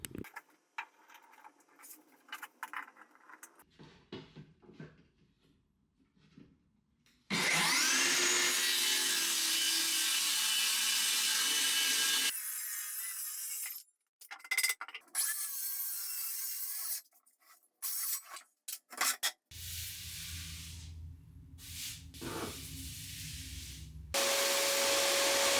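Circular saw cutting 2x4 lumber into short lengths for legs, loud bursts of whining cut noise separated by quiet gaps and handling sounds, up close with no talk.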